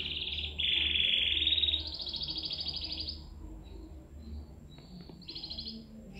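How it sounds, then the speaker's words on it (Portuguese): A young canary, under five months old, sings a loud, close, continuous song of bright trills and shifting whistled phrases, with no talk over it. "Esse é um canário novo"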